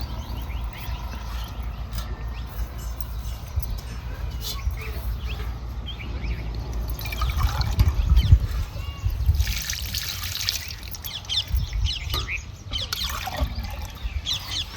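Fresh fenugreek leaves are washed by hand in water in a home kitchen, with soft splashing and trickling that builds into louder sloshing midway, while a person talks over it.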